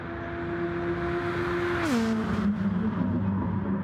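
A pink Nissan GT-R race car in a sim-racing game at Monza, its engine droning steadily near the mic, then dropping in pitch on a downshift as it brakes toward the Parabolica corner.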